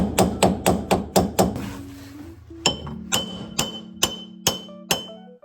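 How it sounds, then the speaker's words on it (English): A hammer strikes a flathead screwdriver against the oil pan of a Mazda RX-7 FC in freezing weather, giving about a dozen sharp metallic clinks in a steady rhythm, close and loud. "So I got a hammer and a flathead, and we're gonna see what we can do here."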